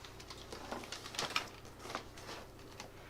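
Typing on a Cherry G84 keyboard: a quick, irregular patter of light clicky keystrokes over about three seconds, fairly quiet against a faint steady hum.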